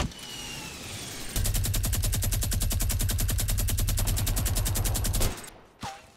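Sustained rapid automatic gunfire from a minigun in Fortnite, a dense steady burst lasting about four seconds, loud and alone, followed by a short whooshing game sound near the end.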